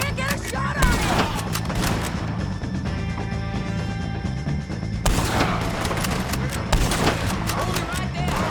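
Rapid gunfire in Red Dead Redemption 2 on PS5, repeated loud shots and volleys crackling over a steady low game rumble, with bursts at the start and again after midway, voices shouting around the firing.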